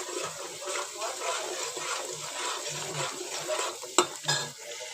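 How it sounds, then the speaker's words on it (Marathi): Homemade red masala, cumin powder and turmeric roast in sizzling oil in a pan, stirred with a spoon that scrapes and clinks against the metal in a steady rhythm, with a brief louder knock near the end. "आता हे आपण छानपैकी तेल सुटेपर्यंत भाजून घेणार आहोत"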